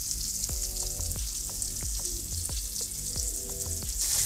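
Chicken pieces searing in a hot pan, a steady crackling sizzle with repeated light taps and clinks at a regular pace, close by.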